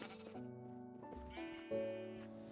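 Sheep in the game Minecraft bleat repeatedly in layered, quavering calls that run steadily throughout, with one louder bleat near the middle and no talk.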